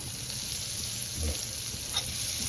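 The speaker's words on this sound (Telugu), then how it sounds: "నేను బటర్ వేసుకుంటున్నా పన్నీర్ మనం ఫ్రై చేసుకోవటానికి" Paneer fries in butter in a pan, giving a soft, steady sizzle with a faint clink or two, close but low in level.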